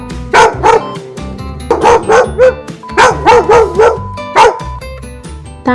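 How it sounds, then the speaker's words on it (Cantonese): A dog barks loudly and close by, in short clusters of two to four sharp barks separated by brief pauses, with no talking. "答案就係狗。"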